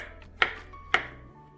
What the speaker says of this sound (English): let's cut the boiled potatoes into small pieces